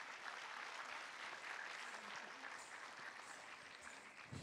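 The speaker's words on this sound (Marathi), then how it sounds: "सोनियासाठी एकदा जोरदार टाळ्या" A crowd applauds a dancer after a Sharayu Nritya Kalamandir performance at the Loksatta LIT Fest 2025: dense, continuous clapping from many hands, even and sustained, easing slightly at the end.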